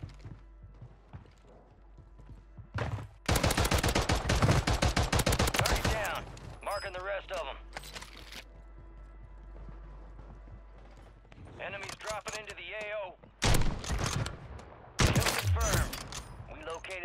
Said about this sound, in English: I'm getting shelled.